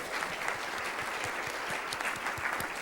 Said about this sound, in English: could you please raise your hand so we could give you a little round of applause